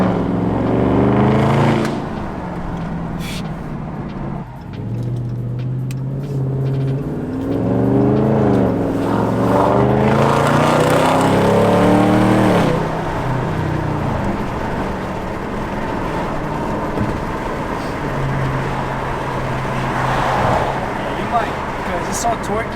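A widebody Dodge Scat Pack accelerating hard through several loud rising revs, with its engine note sweeping up and dropping between gear shifts, close and dominant, while people talk over it inside the car.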